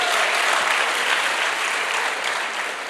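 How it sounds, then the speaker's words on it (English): Dense, loud applause from a crowd of Duke students at a welcome gathering, an unbroken roar of clapping lasting the whole stretch without voices. "Give yourself applause."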